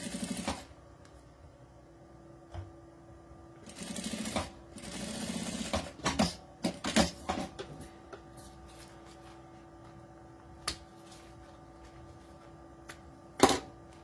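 A sewing machine runs in short bursts, stitching bias binding onto a straight edge of plastic, with rapid whirring runs separated by pauses, handling rustles and isolated clicks, close and fairly quiet.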